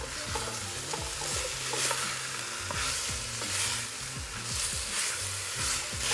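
Beef and thick square pieces of sliced Korean radish stir-fried in a pot for hangover soup, loud continuous sizzling with repeated scraping and clattering strokes of a utensil against the pot.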